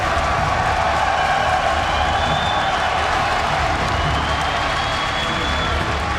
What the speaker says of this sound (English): Make some noise for Jaedong.